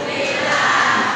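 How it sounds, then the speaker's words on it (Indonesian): A Sundanese religious sermon audience applauds for Pak Haji, a short dense wash of clapping and crowd noise held at steady loudness throughout. "Ah, tepuk tangan ka Pak Haji."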